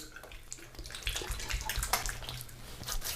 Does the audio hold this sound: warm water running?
yes